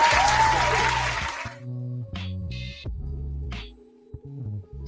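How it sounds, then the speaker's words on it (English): A short burst of crowd applause, loud and dense, lasting about a second and a half before cutting off abruptly into steady tonal music. "Round of applause."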